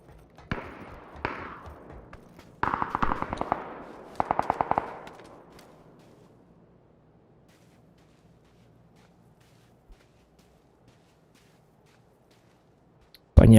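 Distant gunfire in the video game PUBG, several bursts of rapid automatic shots over the first few seconds, moderately loud, then fading into near silence.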